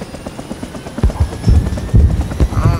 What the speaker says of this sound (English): AC-47 inbound.